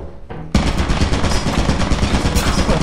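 A turret in the video game Lethal Company fires a rapid, loud machine-gun burst that starts abruptly after a brief pause and continues without letup.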